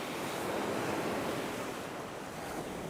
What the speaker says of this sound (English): look at the waves breaking on a pretty nice South Florida day